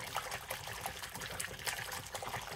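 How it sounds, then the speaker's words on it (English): Hands swish and splash water around in a milky lanolin bath for wool cloth diaper covers, a steady close-up sloshing and trickling with frequent small splashes and no talking. "I am splashing quite a bit here."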